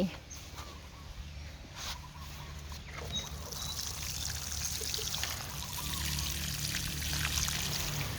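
Fermented liquid is poured onto a potted Aglaonema plant in a steady trickling, splashing stream that grows fuller over several seconds while someone talks.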